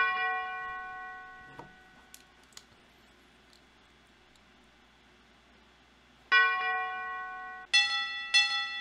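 A synthesized bell in an FL Studio hip-hop beat rings out as a sustained bright tone that slowly decays, then after a quiet gap returns as several sharp, clear bell strikes near the end.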